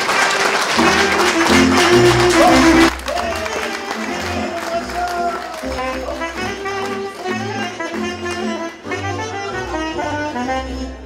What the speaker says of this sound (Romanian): Și vă rog să însoțiți cu aplauze frumos